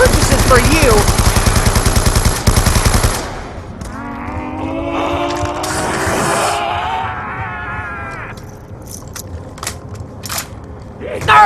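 Ray Gun Mark II in Black Ops 2 Zombies, firing in a loud dense rapid burst at the start, then warbling sci-fi energy tones and scattered crackles.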